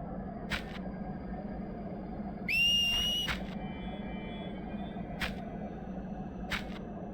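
A melodic whistle from the Final Fantasy X-2 video game finale rises in pitch and holds for under a second, standing out clearly over a steady background hum, with a few faint clicks scattered around it.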